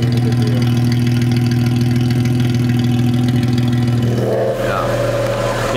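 An Infiniti G37's VQ37 engine runs close and loud, with a steady low idle hum that shifts into a rougher rev near the end, and no talking.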